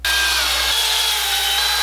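A power sanding tool works over curved wood, giving a steady, loud, continuous hiss-whine that holds even for the whole stretch with no pauses and no voices.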